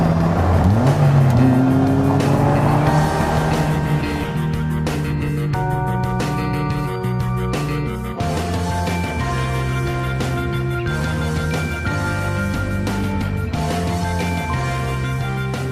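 A Slingshot three-wheeled roadster drives along, its engine holding a steady tone that shifts pitch in steps, loud and close throughout with no talking.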